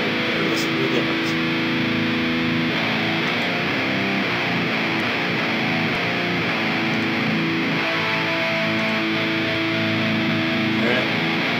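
Distorted electric guitar played through cheap, bare-minimum gear, thick and sustained chords with a steady white-noise hiss running underneath throughout, loud and continuous with no voices.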